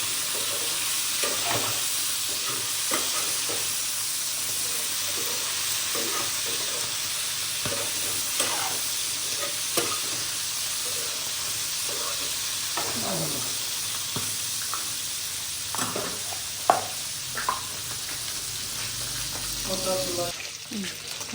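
Meat, local game, frying in a pan with fenugreek seeds and chillies, crackling and sizzling steadily up close, with intermittent stirring scrapes and occasional louder pops.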